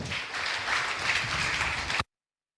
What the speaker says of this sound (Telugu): 7వ మాట చప్పట్లు కొడదాం